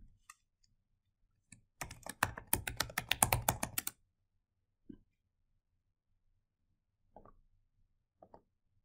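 A password being typed on a computer keyboard, a quick burst of close, crisp key clicks in a quiet room, followed by a few isolated key taps after pauses.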